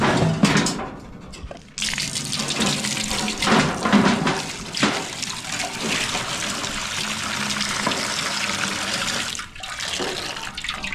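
Water runs steadily from a tap outdoors, filling a container for watering plants, a loud continuous gushing that briefly cuts out near the start and dips again late.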